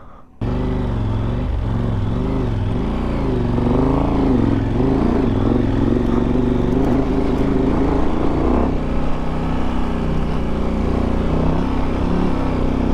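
A 100 horsepower motorcycle climbs a Colorado backcountry alpine pass, its engine droning loud and close for the whole stretch, pitch rising and falling with throttle and gear changes under steady wind rush.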